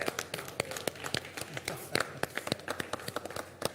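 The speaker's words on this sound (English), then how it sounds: "Let's give a big round of applause." Sparse, uneven hand claps from an audience at a children's hygiene prize ceremony as winners come up on stage, sharp individual claps scattered across the moment rather than a full roar of applause.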